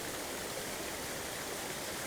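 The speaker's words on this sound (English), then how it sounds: "But at the bottom of this waterfall" A waterfall pours into a pool below with a dense, steady, even roar of rushing water, close and constant throughout, with no voices.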